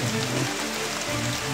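Heavy rain pours steadily in a continuous dense hiss, close and loud, with no voices.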